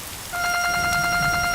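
A phone ringtone chirps in a rapid, regular electronic pulse, starting abruptly after a brief quiet moment and playing loud and close.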